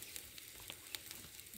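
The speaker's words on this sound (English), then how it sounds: "If I braise, you can see how I'm braising. I want the fat to melt here." Mutton braising in a pot over an open fire, with fat melting alongside mixed masala, gives a faint, steady sizzle with scattered small pops throughout.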